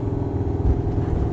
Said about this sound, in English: And then we've got the exhaust cutouts. Listen to that.